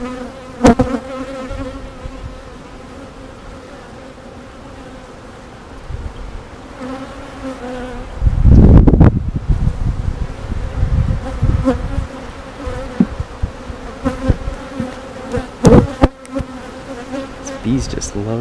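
Honeybees swarm around an open hive during a routine inspection, a dense continuous buzz that swells loud and close midway as bees crowd near, with occasional handling noises.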